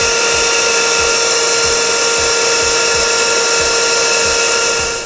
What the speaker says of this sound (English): and then it can all be vacuumed